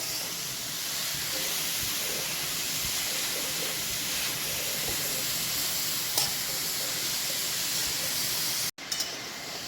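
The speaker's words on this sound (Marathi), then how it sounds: "आपल्याला तुपामध्ये एक 5 ते 10 मिनिटं खालीवर करून घ्यायचं" Grated carrots fry in ghee for gajar halwa, a dense steady sizzle and hiss close up with soft stirring scrapes throughout, briefly cut by a short gap near the end.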